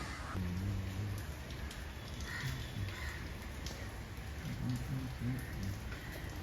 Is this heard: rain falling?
yes